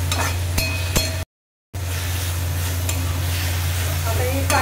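Ambadi greens and onion frying in a pan sizzle steadily while a spoon stirs and scrapes through them, close and continuous apart from a brief silent cut.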